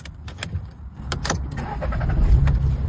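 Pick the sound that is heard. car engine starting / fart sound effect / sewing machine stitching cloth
car engine starting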